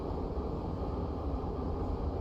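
Subway train in the Big Ambitions video game rumbling steadily throughout, a loud continuous low roar with no voices.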